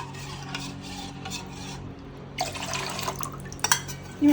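Coconut milk is poured into a pot and stirred while making Pesaha paal with rice flour, giving soft liquid splashing and swirling with a few close metallic clinks near the end.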